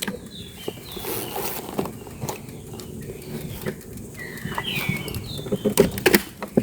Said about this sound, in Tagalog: Makahuni lang ng ibon, maririnig mo.